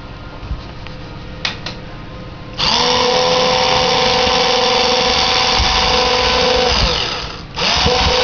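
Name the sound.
power drill drilling into a ceiling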